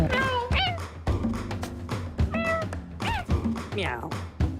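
Several cats meow in a Nioh 3 game session, with high, rising and falling cries scattered across the clip over steady game sounds, alongside someone talking.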